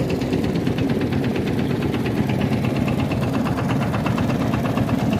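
A boat engine running on the Padma river near Aricha, a steady rhythmic mechanical chugging with a fast regular pulse, continuous and close throughout, with no talk.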